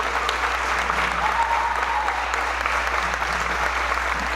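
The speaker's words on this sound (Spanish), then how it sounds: "Quisiera terminar mi intervención sencilla dándole un fuerte aplauso a los compañeros de Palestina" Steady, loud applause from an audience at a Congreso de los Pueblos gathering in Colombia, dense clapping sustained evenly throughout.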